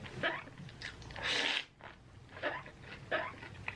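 Crunchy bites and chewing from an ASMR eating video playing in the background, coming in a few separate bursts with a denser rustle partway through, fairly close and moderately loud.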